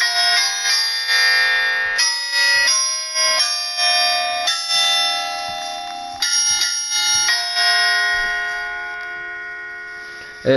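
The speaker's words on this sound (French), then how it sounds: "Donc ça c'est des tintements." Synthesized chiming bells played in GarageBand ring in a steady sequence, each bright metallic strike overlapping the fading ring of the last, loud and close with no voices.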